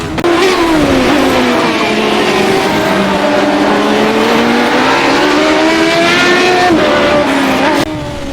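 A Radical SR8 race car engine drones at high revs through a corner at Oran Park in the iRacing simulator, loud and continuous with pitch easing down then climbing back, ending in a quick gear change.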